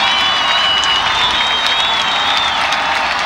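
Hawks football fans in the stands cheer and clap in a sustained, loud roar that holds level for the whole stretch, with a thin whistle-like tone rising above the crowd noise.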